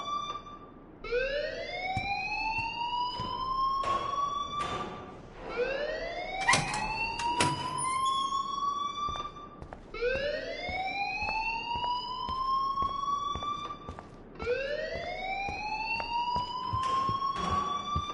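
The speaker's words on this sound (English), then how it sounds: "please turn off that alarm since that's your job." An alarm in the video game Life is Strange sounds as a loud, repeating rising electronic whoop, about four identical sweeps in steady succession, with no voices.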